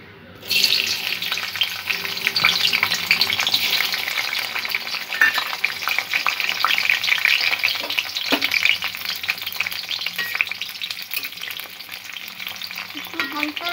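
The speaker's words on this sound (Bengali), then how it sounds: "ক্যাপসিকামটা একটু অল্প করে আমি ভেজে নেব।" Capsicum (bell pepper) frying in oil in a kadai, a loud, continuous sizzle with stirring noises that carries on steadily for over ten seconds, with no voices.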